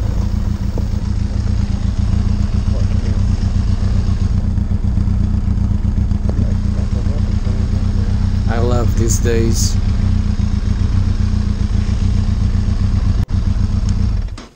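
A Benelli TRK 502 X motorcycle engine idles steadily throughout during an off-road trail stop near Cabo da Roca, a loud, continuous low rumble, while someone talks briefly over it.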